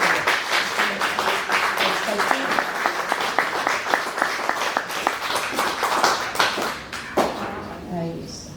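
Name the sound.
applause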